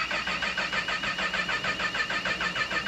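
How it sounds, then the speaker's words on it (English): A Kawasaki ZX10RR engine with Motec M150 electronics cranks on an engine dyno with the ignition off, a steady rapid rhythmic starter whir pulsing evenly and loud throughout, no voices over it. "We're just gonna crank the engine."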